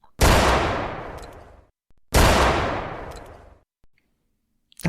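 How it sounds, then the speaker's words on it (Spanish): Two loud gunshots fired at point-blank range on a still night, each a sharp blast with a long decaying echo about two seconds apart, followed by quiet. "se oyó el estruendo de los disparos."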